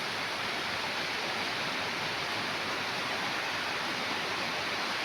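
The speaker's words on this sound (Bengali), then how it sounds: "এই যে বৃষ্টির শব্দ, আমি আর মিউট করলাম না।" Rain falling during hot weather in Sylhet, a dense, even, continuous wash of hiss that stays steady throughout without any voices.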